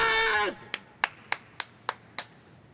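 A player at the IEM Rio 2024 esports tournament claps hands seven times in an even rhythm, sharp and fairly close, right after a voice speaks.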